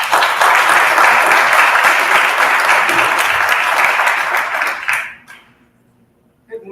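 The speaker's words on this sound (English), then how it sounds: "So give her another round of applause." Audience applause at a Black men's health and community event, a loud, dense burst of clapping from a full room that holds steady for about five seconds, then quickly dies away into near silence.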